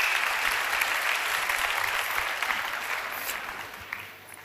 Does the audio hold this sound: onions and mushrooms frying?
no